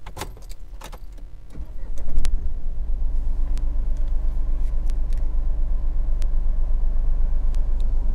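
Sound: Mahindra Bolero Neo engine started and running

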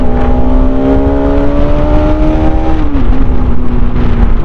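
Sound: group of motorbikes riding on a road

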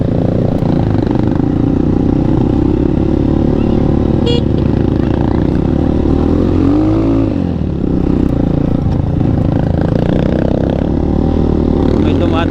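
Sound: kolong-kolong motorcycle sidecar engine on muddy trail

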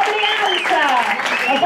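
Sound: audience applause

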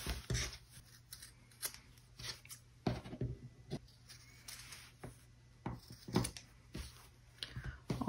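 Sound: scissors trimming rounded fabric edges of doll sleeping bag

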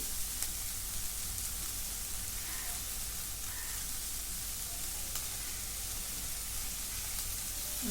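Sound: fenugreek leaves sautéing in a pan

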